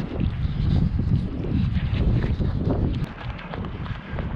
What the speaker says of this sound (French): Il y a eu le coup de vent cette nuit, donc il y a un peu encore de vent.